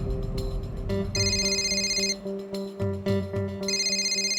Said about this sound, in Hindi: लो, मेहता का ही फोन आ गया।